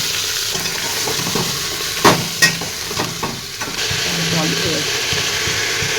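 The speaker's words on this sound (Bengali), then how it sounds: "সিম টমেটো ক্যাপসিকাম আলু বাঁধাকপি এই সমস্ত সবজিগুলো আমি দিয়ে দিচ্ছি দিয়ে এখন একটু ভেজে নেব" Beans, tomato, capsicum, potato and cabbage frying in oil for a vegetable khichuri, a constant close sizzle broken by a few sharp knocks and scrapes of stirring.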